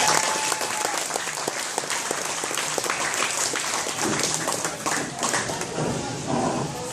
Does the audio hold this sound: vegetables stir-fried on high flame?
no